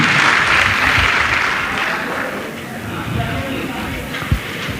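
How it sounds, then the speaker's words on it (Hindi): Audience applause at a business anniversary event in India, a dense wash of clapping that gradually thins and fades over several seconds. "एक बार जोरदार ताली में एनर्जी के लिए प्लीज"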